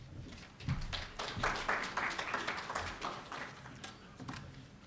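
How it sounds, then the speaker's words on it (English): An audience claps for a speaker arriving to give welcome remarks at an MoU signing ceremony, a quiet, scattered patter of hands that swells and then thins out. "Can we have a round of applause?"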